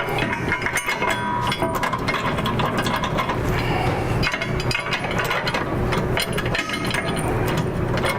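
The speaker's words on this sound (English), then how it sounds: "go ahead and run those bolts down, but don't tighten them up at this time." Bolts are run down with a tool while a Go Rhino BR20 rear bumper is installed on a Toyota Tundra. Loud, continuous mechanical rattling and ratcheting carries on close by for the whole stretch.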